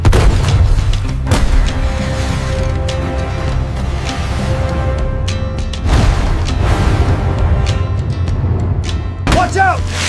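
A gun fires at a giant sea creature on a deep-sea fishing boat, heavy booming blasts over a constant loud engine and sea rumble, with shouting voices around it.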